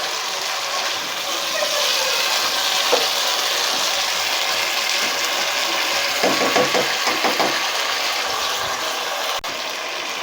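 Shahi chicken korma, degh style, frying in a pot during bhunai, a steady broadband sizzle running throughout with occasional scraping and stirring knocks near the middle, fairly loud and continuous.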